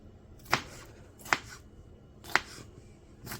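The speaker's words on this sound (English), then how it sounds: "And yes, I'm showing you everything I'm chopping up." A knife chops vegetables on a board for a 15 bean soup with smoked hog jowl and collard greens: four sharp, separate close knocks spaced about a second apart, with no talk.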